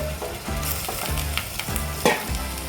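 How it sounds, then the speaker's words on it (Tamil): Mutton sautéing with onion and tomato in a pan for a Chettinad-style white mutton kurma, steady sizzling and frying with repeated stirring scrapes, close and alone. "மட்டனையும் சேர்த்து வெங்காயம் தக்காளியோட நல்லா வதக்கிக்குவோம்."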